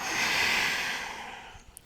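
A long, steady exhale during a slow yoga flow, close and breathy, fading away toward the end with a couple of faint clicks.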